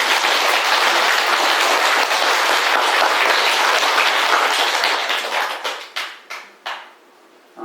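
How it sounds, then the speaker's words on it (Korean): Sustained crowd applause at a Buddhist temple full-moon dharma service, loud and dense, that thins into a few scattered claps before fading out. "박수 한번 더 보내드립니다."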